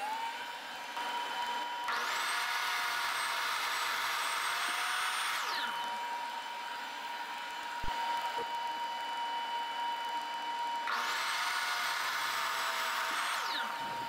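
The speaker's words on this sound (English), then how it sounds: "I'm going to turn on the dust collecting system, which is going to be very loud, and we're going to make a couple of cuts" A workshop dust collection system running beside a miter saw bench, its loud whine rising and holding, then dropping away before starting again, with two saw cuts sounding underneath.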